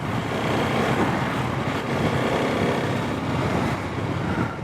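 TVS Apache RTX 300 motorcycle ridden off-road, a loud, steady engine drone mixed with heavy wind rush and rumble throughout, no talking.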